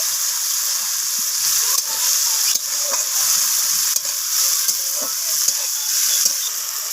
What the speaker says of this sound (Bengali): পেঁয়াজটাকে আমি উচ্ছের সাথে ভেজে নেব।